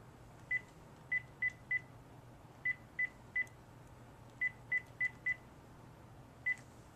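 A string of short touch-tone beeps as a phone number is dialed, quick groups of tones with small gaps over a faint hum.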